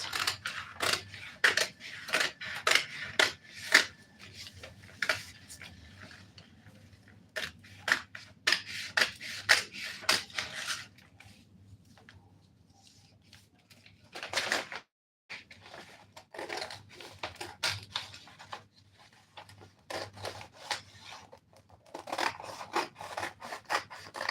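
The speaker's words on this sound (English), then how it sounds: "So let me first cut out this pattern." Scissors snip steadily through a paper sewing pattern for a one-shoulder blouse, a long run of rapid close cuts with a brief pause near the middle, then more cutting; no talking.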